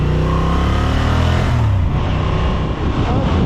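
A 2025 Honda Transalp 750 A2 motorcycle accelerates in sport mode, its engine loud and close. The steady roar climbs in pitch, then eases, with heavy wind rush throughout.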